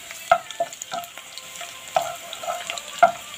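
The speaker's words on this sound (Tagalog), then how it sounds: "So, lagay muna natin ang bawang." Garlic fries in a pan with a soft, steady sizzle, broken by scattered clinks and scrapes of stirring, close and moderately loud with no talking.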